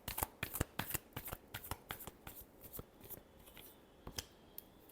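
A deck of tarot cards is shuffled by hand, giving quick riffling flicks and soft snaps in an uneven run, close but quiet, with no talking.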